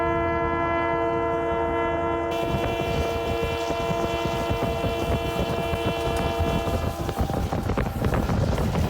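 An old Yugoslav train running from Skopje to Prilep starts with a long steady horn blast, then gives way to loud rumbling and clattering of the carriages on the rails that continues to the end, with no talk.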